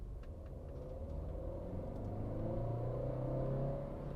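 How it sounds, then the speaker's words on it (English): A Stage 1 tuned Tata Altroz diesel accelerates hard in second gear from low revs, its engine rumble swelling into a rising, steady drone that grows louder and surges across the whole run. "I'm on second gear doing about 30 kilometers per hour on second gear at 2000 RPM, and this is what happens when I plop my foot down"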